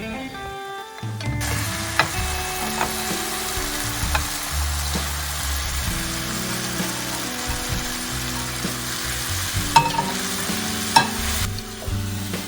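Fried beef stirred into a coconut milk gravy that is reducing in the pan, giving a continuous bubbling sizzle with occasional utensil knocks, set over background music.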